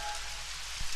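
Rain falling, a steady broadband patter and hiss with a soft low rumble underneath, holding even throughout apart from a brief louder splash near the end.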